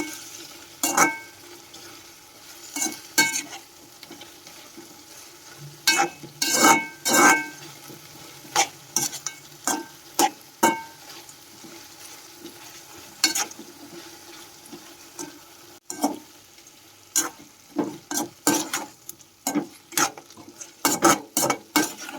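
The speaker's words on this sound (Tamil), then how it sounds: "வத்தல் போட்டுக்கலாம் நம்ம அதையும் போட்டு நல்லா கிளறி விட்டுக்கோங்க" Dry chillies fry in a pan while a spoon stirs and scrapes, giving repeated sharp clatters and bursts over a steady background sizzle, close and fairly loud.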